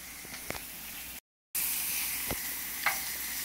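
Ribs deep frying in hot oil give a steady, close sizzling hiss with a few soft crackles and pops, broken by one short silent gap.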